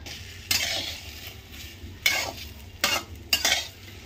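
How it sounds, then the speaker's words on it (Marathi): Okra (bhindi) is roasted in a pan and stirred, with a quiet sizzle running underneath and four distinct loud scraping sweeps of a utensil across the pan. "आपण भाजून घ्यायचे भेंडी आता।"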